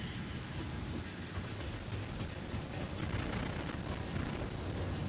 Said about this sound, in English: I can hear the rain, which is fantastic